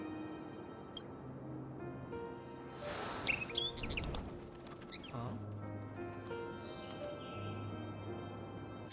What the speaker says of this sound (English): It's just the same bird.